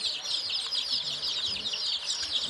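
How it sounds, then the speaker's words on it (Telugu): Native country chicken chicks peeping continuously in a chorus of high, shrill cheeps, close and steady throughout, with no talking. "చూడండి మా కోడి పిల్లలు ఇది బయట వేసి బుట్టలో తీసుకొచ్చి లోపల పెట్టాము"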